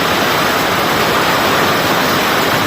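A loud, unbroken hiss of heavy rain pouring down, close and constant throughout with no breaks or voices.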